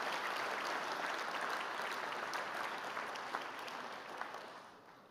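Audience at a congress applauding, a dense, steady wash of hand claps from a sizable crowd that gradually tapers off, with no talking over it.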